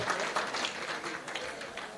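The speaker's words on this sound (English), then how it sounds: "Give him a very big round of applause." An audience in a meeting hall for an Eastern Cape school rationalisation programme applauds, a dense, even patter of many hands clapping at moderate volume with no voices.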